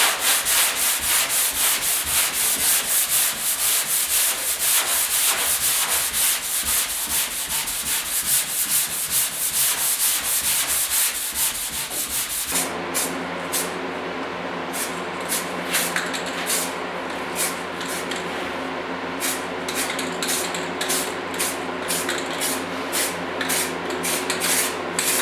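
A sanding block rasps by hand across the roof of a 1956 Ford pickup truck in a steady series of back-and-forth strokes, close and continuous, with the rhythm changing partway through.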